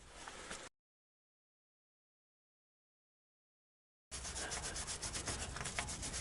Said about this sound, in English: I'm going to grab some sandpaper and a wire brush and just clean up this inside bore